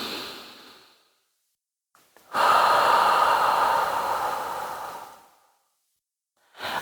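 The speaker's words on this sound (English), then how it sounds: "deflating the belly as we exhale" Breathing during a mat Pilates exercise: a fading breath, a brief pause, then one long, strong exhale lasting about three seconds, close and alone, with another breath starting at the end.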